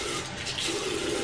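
Water runs steadily from a tap to wet a scrubber, a continuous close splashing rush filling the short moment with no voices.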